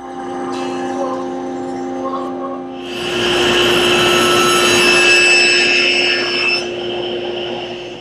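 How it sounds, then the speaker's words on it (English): A woodworking machine runs up and cuts wood panel pieces, jointing an edge and crosscutting the bottoms, with a loud sustained whir and tonal hum that swells midway then eases as the cut finishes. "Now that I've jointed this edge and then cross cut the bottom on both pieces"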